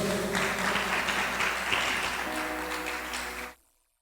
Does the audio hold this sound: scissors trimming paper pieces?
no